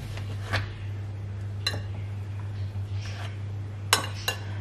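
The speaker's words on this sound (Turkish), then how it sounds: "Yoğurt ekliyorum." A spoon clinks against a dish while yogurt is added, a few light scattered taps over a steady low hum in a quiet home kitchen.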